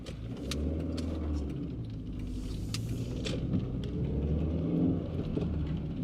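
A car driving along a London road, its steady low engine rumble and road noise continuous and close throughout, with no talking.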